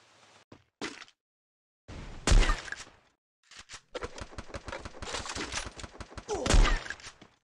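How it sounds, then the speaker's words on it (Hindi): Rapid gunfire in the Garena Free Fire battle royale game with AWM sniper shots, heavy reports mixed with fast bursts in uneven clusters, loud and close, separated by brief silent gaps. "एक कुछ तो ऐसी गन चला रहा है एडब्ल्यूएम बेडब्ल्यूएम जो बहुत खतरनाक वाली मेरे को लग रही है भाई"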